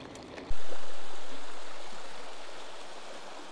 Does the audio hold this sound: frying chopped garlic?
no